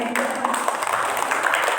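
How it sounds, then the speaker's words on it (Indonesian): An audience at an elementary school Quran Juz 30 memorization ceremony gives dense, continuous applause, loud and close, with a voice faintly underneath. "Tepuk tangan ya."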